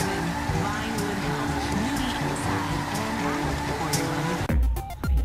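Car doing a burnout in GTA V: a loud, sustained engine roar with squealing tires fills the scene, then cuts to a few sharp thumps at the end, while people talk over it.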